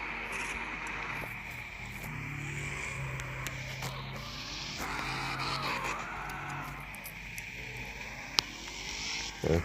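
A video game car drifts on performance drift tyres, its engine droning steadily with rising and falling revs and tyre squeal underneath, all at a constant moderate level.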